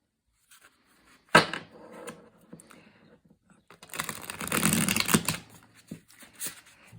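A deck of tarot cards is handled: one sharp slap, then a few seconds of quiet before a longer riffling shuffle with papery flutter, close by with no talking.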